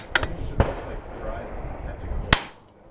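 Rimfire rifle shots at a golf ball 100 yards away outdoors: two or three sharp, brief cracks spaced apart over faint background noise.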